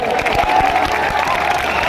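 Audience clapping at a Gujarati folk music gathering (lokdayro) held with a cowshed charity prize draw: a short, steady patter of many hands from a crowd, fairly close and continuous, with faint murmuring underneath.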